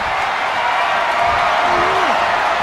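Crowd roar in a wrestling video game, a dense, loud and continuous wash of cheering arena noise that holds level throughout.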